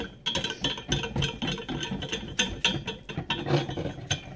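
A whisk works flour into melted butter in a pan for gravy, giving quick, uneven scraping and ticking strokes at close range with no voices.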